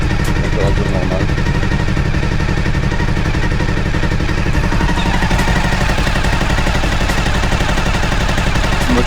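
A freshly rebuilt Suzuki SV1000S motorcycle engine idling close by at normal temperature, a rough, rapid mechanical putter that stays steady and loud throughout.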